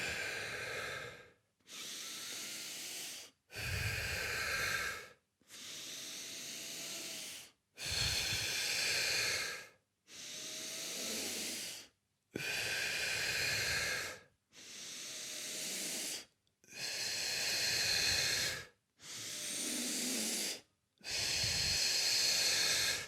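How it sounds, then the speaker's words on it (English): A person takes slow, deep breaths as a calming exercise for anxiety. Inhales and exhales alternate with brief silent gaps between them, close and airy, for six full breaths with no talking. "So it'll be 6 deep breaths."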